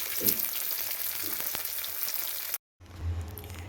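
Fish sizzles as it fries in a pan in a home kitchen, giving a steady, close frying hiss that cuts out briefly and then resumes, with no talking.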